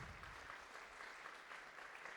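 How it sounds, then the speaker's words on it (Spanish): A church audience applauds faintly and steadily, a thin, distant wash of clapping with no talk over it. "les damos un fuerte aplauso"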